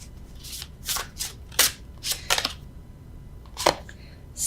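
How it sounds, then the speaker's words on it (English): Tarot cards shuffled by hand without a riffle, heard as a run of short papery swishes and flicks in uneven bursts, close up, with no talking. "Normally I riffle shuffle, but I don't feel like it."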